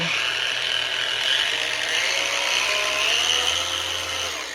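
A cordless random orbital polisher powered by a Dewalt battery runs continuously with a steady high buzzing whine, close and fairly loud, for several seconds without a break.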